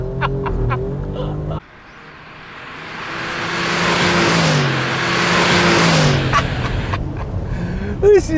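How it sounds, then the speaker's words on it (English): A Tesla Model 3 and an Alfa Romeo Giulia Quadrifoglio rev hard in wet conditions with spinning wheels, one sustained rising engine roar building over several seconds, with talk before and after. "All I heard was your little wheels spinning and your engine and revs"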